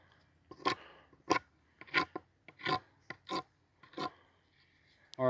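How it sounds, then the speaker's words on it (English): Sharp edges being ground off a piece for a quick throw or reinforced shelter, a series of about nine short rasping strokes at an uneven pace, close and clear with quiet gaps between. "you just want to kind of grind those sharp edges off"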